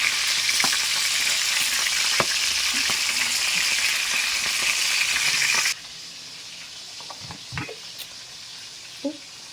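Loud, steady sizzling of fish frying in hot oil fills most of the clip, then cuts off abruptly, leaving quieter clinks and kitchen sounds.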